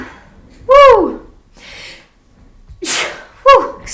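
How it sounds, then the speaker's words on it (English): A loud, close sneeze bursts out, followed by breathy exhales and a second sharp sneeze-like burst a few seconds later. "Confirmation sneeze."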